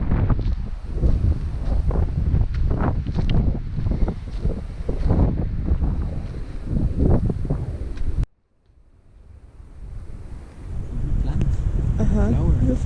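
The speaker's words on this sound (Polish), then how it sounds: "Ale trochę wietrznie." Strong wind buffets the microphone in a loud, roaring rush while people talk; it cuts out abruptly, then the gusting swells back in.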